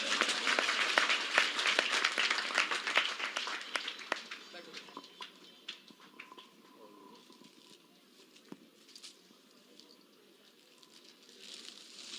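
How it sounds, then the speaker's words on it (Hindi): Applause from the audience at an honour ceremony for Gita class teachers, a burst of clapping that starts fairly strong and thins out into scattered claps over several seconds, with faint voices in the room. "एक बार जोरदार ताली से सबका दो।"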